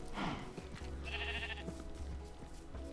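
A Minecraft sheep bleats, a few short wavering calls up close over a quiet game background, one near the start and another shortly after.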